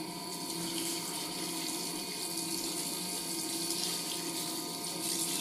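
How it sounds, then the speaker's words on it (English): Water gushing out through the bottom of a 1980s Tefal Spinmaster spin dryer tub, a steady close hiss and splash that runs unbroken and fairly loud, with no voices. "the water will come gushing straight out, as I'll show you, because it will go through the very bottom of the tub"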